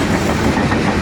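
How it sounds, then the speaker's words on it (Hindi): The Karakoram Express passing through Ranpethani railway station, a loud, close, continuous roar of rolling wagons and wheel rumble filling the short moment without any voices. "और इसी दौरान ZCU लेकर आ रहा है 42 डाउन कराकरम एक्सप्रेस को।"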